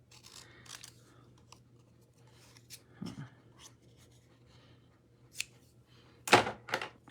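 Scissors fussy cutting a stamped card around a festive font, a few soft, sparse snips and crisp paper crunches, brief and close, with quiet gaps between them and no talking.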